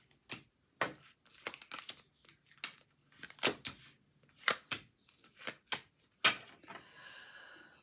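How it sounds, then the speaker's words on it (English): Tarot cards are pulled and handled from a deck in a series of close, crisp paper snaps and slides, irregularly spaced, ending with a brief shuffling rustle. "let's go ahead and let's pull out some cards"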